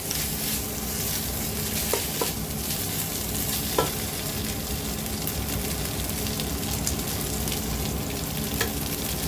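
Chicken spring roll filling with spices being fried and stirred in a pan, a loud continuous sizzle close up with occasional scraping clinks of the spatula.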